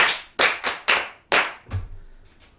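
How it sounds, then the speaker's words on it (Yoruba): Several children clap their hands in a quick, uneven burst of about six sharp claps, close and loud, during a children's programme, then a few softer trailing taps. "ẹ pàtẹ́wọ́ fún sùlíà o"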